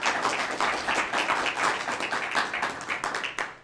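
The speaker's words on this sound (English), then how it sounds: "we should give Connie a round of applause for what she said already" An audience gives a round of applause for Mayor Connie Boyer at a community meeting, a brisk, close burst of many hands that fades out at the end.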